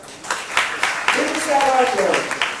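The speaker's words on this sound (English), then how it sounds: "Give me a round of applause" Clapping from an audience at a university business school undergraduate orientation rises in a brief burst, and then a voice speaking over a microphone takes over.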